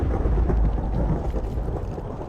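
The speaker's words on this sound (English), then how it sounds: "It's totally raining." Rain and rolling thunder in the game Minecraft, a loud, continuous deep rumble with steady rainfall throughout and no voices.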